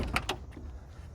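A 1973 right-hand-drive BMW 2002tii door swings shut with two quick close thuds and a latch clack near the start, followed by quiet, low ambient rumble.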